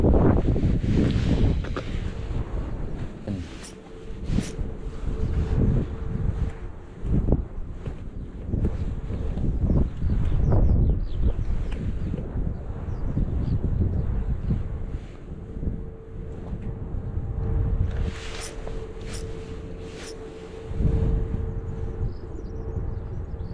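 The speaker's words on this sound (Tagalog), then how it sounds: "Lakas ng hangin talaga oh." Strong wind gusts buffet the microphone on a seashore while shore-casting for bigfin reef squid, a steady roaring rush with heavier bursts, and faint surf sounds beneath.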